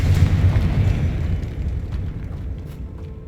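A Confringo fire spell exploding in Hogwarts Legacy, a deep rumbling boom that fades slowly over a few seconds, loud and close with no voices.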